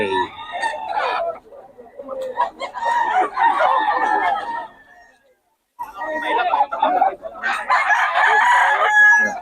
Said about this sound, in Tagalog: 3 lang mga manok ni Boss Ga